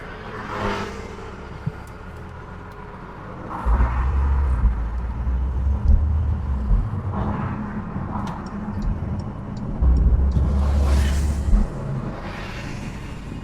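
A Porsche 911 (992) Carrera 4S engine hums low while driving, with deeper rumbling swells during acceleration, fairly subdued, and occasional light ticks and clicks inside the cabin.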